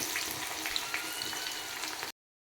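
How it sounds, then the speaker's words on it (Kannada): Onions hit hot oil with mustard seeds in a pan, giving a steady close hiss of frying for about two seconds before it cuts off abruptly. "ಎಣ್ಣೆ ಕಾಯಕ್ಕೆ ಇಟ್ಕೊಂಡು ಸ್ವಲ್ಪ ಸಾಸಿವೆ ಹಾಕೊತಾ ಇದ್ದೀವಿ ಇವಾಗ ಈರುಳ್ಳಿ"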